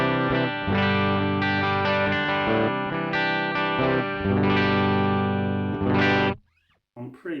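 Electric guitar on the bridge pickup, run through a preamp straight into a recorder with distortion and chorus effects, playing sustained rock chords and riffs loudly for about six seconds before stopping, followed by a few faint handling noises.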